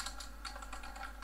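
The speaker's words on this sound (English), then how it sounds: "Now if I type here" ActionScript code is typed on a computer keyboard as a quick run of close, light key clicks in an uneven rhythm, over a faint steady low hum.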